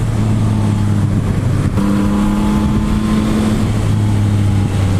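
A 2021 Yamaha MT-09 SP motorcycle's three-cylinder engine drones loud and close, a steady humming tone whose pitch steps up briefly midway before settling back, with continuous road and wind noise beneath.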